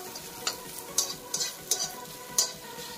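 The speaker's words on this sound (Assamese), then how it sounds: "মই আজি কণীৰ লগত ভাজি দিলোঁ" Bitter flowers fry with egg in a pan: a low continuous sizzle punctuated by about five sharp spatula scrapes and clicks against the pan, close and fairly loud, with no voices.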